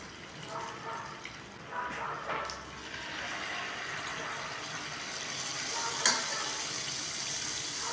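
Kachayam batter fries in hot oil in a small pan, a soft continuous sizzle with a few brief crackles, under quiet room noise.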